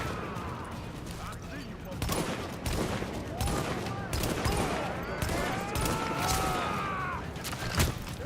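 Rapid bursts of video game gunfire ring out in a shootout, with repeated shots and impacts scattered across the scene; a player talks over the action.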